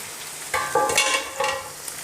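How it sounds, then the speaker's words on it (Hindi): Minced meat (keema) frying in a pan, a close hissing sizzle with brief bursts of crackle and stirring scrapes. "हमारा जो कीमा है वो फ्राई हो रहा है।"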